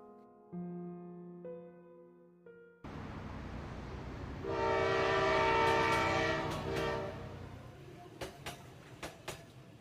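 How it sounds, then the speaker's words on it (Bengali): A passenger train rumbles along the tracks past fields with a rhythmic clatter, a horn sounding over the roar as it passes close, after some brief tonal notes at the start. "ফসলি ক্ষেতের পাশ দিয়ে ঝকঝক করে ছুটে চলেছে আমাদের ট্রেন।"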